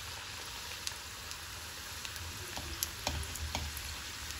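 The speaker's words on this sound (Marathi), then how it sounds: "मधले पापोद्र तर तळले जातात" Champakali, a savoury fried snack, fries in hot oil with a soft continuous sizzle and a few faint crackles and pops, quiet and close with no speech.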